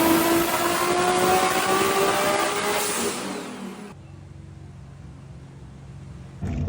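A high-horsepower tuned Toyota Supra roars loudly for about four seconds, its engine note rising under acceleration, then the sound drops abruptly to a low, quieter rumble.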